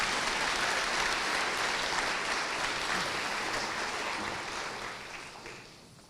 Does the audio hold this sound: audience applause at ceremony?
yes